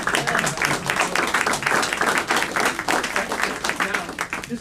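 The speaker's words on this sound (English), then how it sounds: "What's that round of applause?" Audience applause for a speaker at a science talk with children in the crowd: dense, rapid clapping from many hands, steady and close, tapering slightly near the end.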